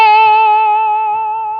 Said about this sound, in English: we can bend to it or pre-bend to it, and then we can do the vibrato up there.